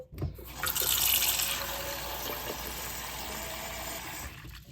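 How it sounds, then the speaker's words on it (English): Running water pours from a tap into a watering container for tomato plants, a steady splashing rush that swells early and then holds even for several seconds before cutting off. "I need to give the tomatoes some more water because they are running a bit low."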